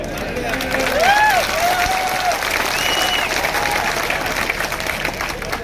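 Crowd applause at a political rally in Darbhanga, Bihar, a dense steady wash of clapping with cheering and voices mixed in, loud and continuous throughout.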